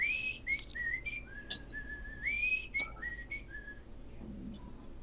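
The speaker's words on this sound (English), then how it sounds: "you can hear kind of an odd, cheery whistling" A person whistles a cheerful, wandering melody with sliding notes, fairly close and steady, with occasional short pauses between phrases, during a Tomb of Horrors tabletop role-playing session.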